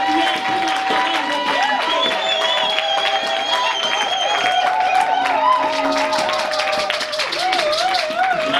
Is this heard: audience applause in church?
yes